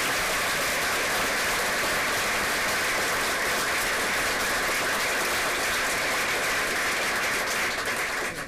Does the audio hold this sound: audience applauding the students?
yes